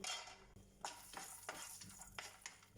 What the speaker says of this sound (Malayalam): ഞാനിവിടെ ഒരു പാനിൽ ഒരു 1/2 ടേബിൾ സ്പൂൺ ഗീ ചൂടാക്കിയിട്ടുണ്ട്. അതിലേക്ക് ഒരു പിടി കാഷ്യൂ ഇടുന്നു.